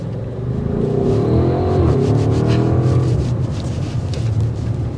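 A 2024 Audi SQ8 with a 500-horsepower engine accelerating hard, a loud, sustained engine roar with rising pitch heard from inside the cabin, with no talking.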